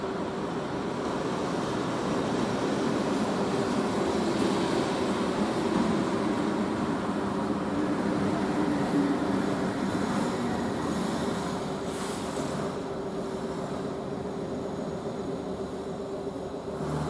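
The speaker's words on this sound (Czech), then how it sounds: "ke čtvrtému nástupišti vpravo přijíždí osobní vlak číslo 9713 linky S40 společnosti České dráhy ze směru Louny" A České dráhy S40 passenger train arriving at a platform in Kralupy nad Vltavou station rumbles and rolls with a steady, low, muffled roar that eases slightly toward the end, with no talking.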